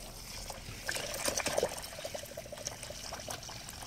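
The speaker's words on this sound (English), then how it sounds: "We're going to go ahead and add our vinegar, and we're going to make sure that the vinegar is covering the top." Vinegar poured over eggshells in a container makes a faint, close trickling and splashing of liquid, with a few brighter drips and small bursts in the middle against a quiet background.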